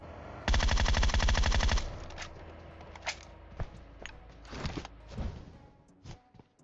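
Sustained automatic rifle fire from an MK14 or Groza in PUBG Mobile, a loud dense burst of over a second followed by scattered single shots and softer game sounds.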